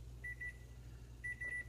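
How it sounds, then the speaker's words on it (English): Kitchen timer going off beside a pot boiling for a yeast starter: two quick pairs of high electronic beeps, separated by about a second, sounding faint over a low steady hum. "Timer goes off"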